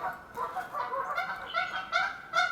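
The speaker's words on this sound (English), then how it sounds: "Pardon my geese, I'm up in the mountains." Several geese in the mountains honk in a rough, overlapping series, the calls growing louder and more distinct toward the end, with no talking.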